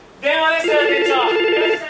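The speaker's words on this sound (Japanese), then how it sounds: "電話ですよ店長。" A telephone rings in a small cafe, a loud electronic trill that starts abruptly and carries on continuously nearby, with voices in the room.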